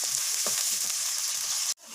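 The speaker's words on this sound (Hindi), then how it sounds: "1 कप के करीब मैं ऑयल डाल दूँगी और प्याज डाल दूँगी" Chopped onion frying in oil in a wok, giving a steady, bright hiss of sizzling with faint soft stirring bumps underneath, close up; the sizzle cuts off abruptly near the end, then resumes more quietly.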